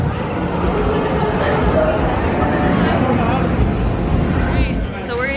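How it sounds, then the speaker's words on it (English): Several small puppies yip and bark over a loud, constant hubbub of people talking nearby at a Super Bowl Sunday venue. "Oh, look at all those puppies."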